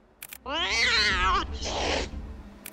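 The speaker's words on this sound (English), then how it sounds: "Toygers are special types of pet cats that were carefully bred to look like miniature tigers." A toyger, a domestic cat bred to resemble a miniature tiger, gives one long drawn-out wavering meow followed by a breathier, rougher cry, close and loud.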